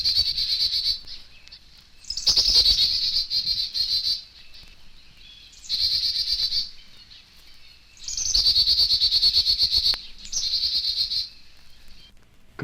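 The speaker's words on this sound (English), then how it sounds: "A Carolina chickadee, southern equivalent of the black-capped chickadee," A Carolina chickadee gives repeated high, buzzy dee-dee chatter calls in several bursts of one to two seconds, separated by short pauses, clear and close with no voices.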